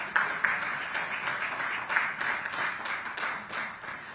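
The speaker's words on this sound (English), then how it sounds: "Can I have a round of applause for her," Moderate audience applause for a company country president at a business event, a steady patter of many hands clapping at some distance, fairly soft and even throughout.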